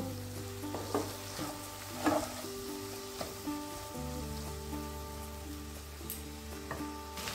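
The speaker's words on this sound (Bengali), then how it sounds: "এবার আদাটাকেও এই পেঁয়াজ আর টমেটোর সঙ্গে মিশিয়ে দেব।" Crushed ginger fries with onion and tomato in a pan, a faint sizzle broken by gentle scraping stirs, all under soft background music.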